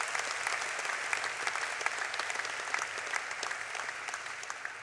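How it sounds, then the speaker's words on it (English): A graduation ceremony audience at RMIT Vietnam's Saigon South campus gives sustained applause in a large hall, with many hands clapping in a fairly quiet, even, continuous wash. "A big round of applause."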